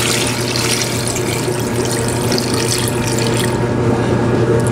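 Water pours into a rock tumbler barrel filled with crazy lace agate stones, a loud, continuous rushing splash heard up close, steady for the whole stretch with no talking.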